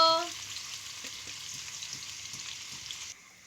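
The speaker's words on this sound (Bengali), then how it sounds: "পেঁয়াজগুলো ভেজে নেব" Onions frying in hot oil with bay leaf and dried red chillies, a steady close sizzle with a few faint stirring ticks, dropping off near the end.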